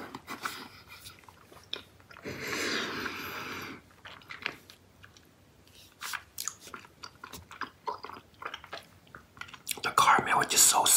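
Close, moist chewing of a Werther's Original vanilla creme soft caramel candy, with soft sticky smacks and mouth sounds, some quiet whispered speech, and a louder burst near the end.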